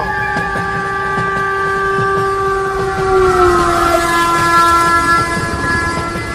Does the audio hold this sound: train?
yes